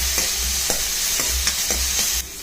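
Green chilli, ginger and garlic sauté in a pan for green pea and potato kurma, with a loud close sizzle and regular stirring scrapes about every half second, then the sizzle drops off near the end.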